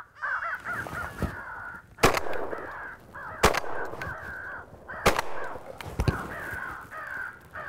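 Numerous crows caw loudly and repeatedly in the countryside during a crow hunt in Nash County, North Carolina, with sharp gunshots cutting through the calls several times.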